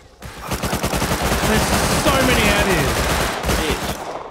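Rapid volleys of gunfire from many guns at once outside, a dense crackling burst of overlapping shots lasting several seconds, loud and close.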